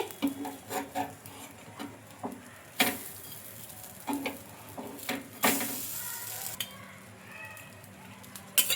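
Small dosas cooking in oil on a pan, a soft sizzle broken by spatula scrapes and clicks at irregular intervals, with a few louder bursts as oil is added, no voices.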